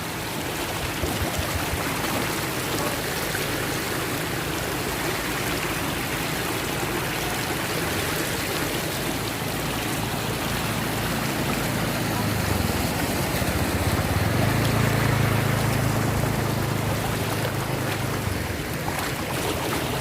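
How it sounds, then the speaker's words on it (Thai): Floodwater rushing through a flooded town in Laos during the rainy season, a steady, loud, broadband wash of moving water that continues without a break from start to finish, with a low rumble swelling near the end. "น้ำท่วมเมืองกังเบียงทำให้เมืองกังเบียงกลายเป็น ทะเลไปแล้วครับ"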